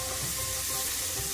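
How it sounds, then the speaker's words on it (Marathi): Onion and green chilli sautéing in a pan for paneer bhurji, a steady, close, broadband sizzle that holds evenly for the whole short stretch with no voices. "आता कांदा छान परतून घ्यायचा आहे आपल्याला ब्राऊन रंगावरती।"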